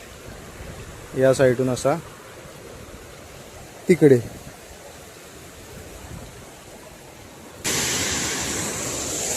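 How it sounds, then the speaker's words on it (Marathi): Water rushes down past a village road near a waterfall, a sudden loud, steady hiss of flow arriving near the end after someone speaks briefly over quieter ambience. "पाणी इकडून वरतून जातं बघा"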